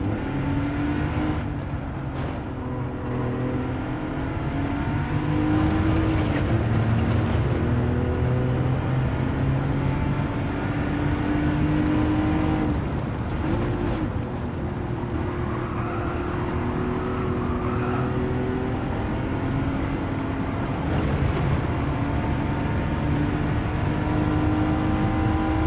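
A race car engine in Gran Turismo 7 drones and revs continuously, rising and falling in pitch with gear changes and throttle lifts, loud and close throughout.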